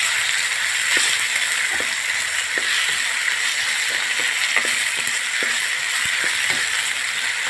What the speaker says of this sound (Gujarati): મીઠું નાખવાથી જલ્દી તળી જાય છે બટાકા.